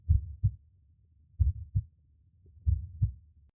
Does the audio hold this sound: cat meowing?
no